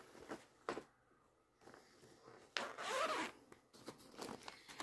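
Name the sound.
zippers on project bags being opened and closed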